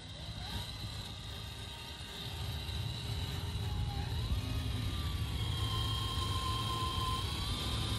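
A Rlaarlo MK-07 1:7 scale RC car in low gear, rear-wheel drive with open diffs, drives with a steady electric motor whine that climbs in pitch partway through, close and continuous over background noise.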